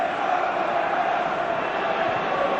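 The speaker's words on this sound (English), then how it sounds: "Half-time arrives to a raucous cheer" A packed football stadium crowd at a 1995 Premier League match between Coventry and Blackburn roars with a dense, sustained raucous cheer at half-time, steady and loud throughout with no let-up.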